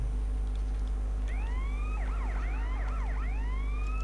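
Police siren in GTA San Andreas, a wailing electronic sweep that rises and falls in overlapping cycles over a constant low game hum, starting partway through and continuing loud to the end.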